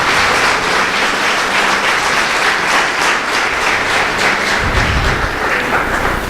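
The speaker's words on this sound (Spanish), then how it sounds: "Denle un aplauso al Señor entonces." Sustained applause from a church congregation, dense and steady clapping that fills the space for several seconds, with no talking over it.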